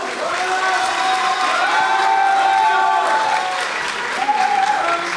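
A crowd at a Korean heavyweight fight event applauds and cheers for the fighter Mammoth, loud sustained clapping with whoops rising above it, with a voice speaking faintly underneath.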